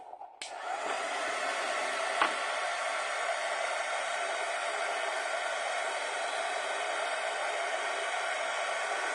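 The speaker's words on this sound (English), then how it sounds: "So I'm just going to give that a quick flash dry." A heat tool flash-dries dark red ink on a handmade Christmas card, starting with a click and then blowing as a steady, even rushing hiss held for about nine seconds, close and alone.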